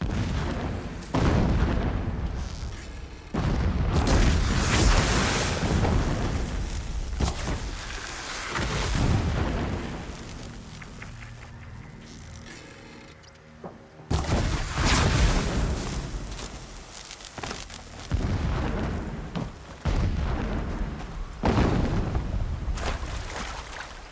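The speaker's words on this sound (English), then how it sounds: "Explosions in the distance." Distant explosions rumbling across the landscape in Horizon Zero Dawn Remastered, a series of heavy booms and blasts that swell and fade, with quieter gaps between bursts.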